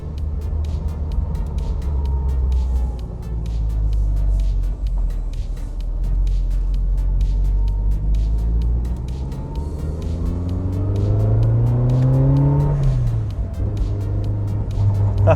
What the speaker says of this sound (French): Le bon vieux son du turbo.